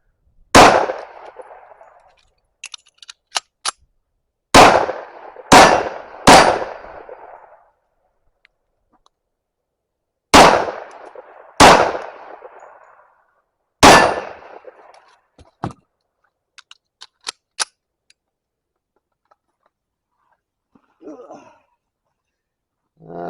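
A 1911 pistol fitted with a dual-port compensator fires in sharp, loud, close bursts, single shots and quick pairs with ringing decay and pauses between strings, with no voices.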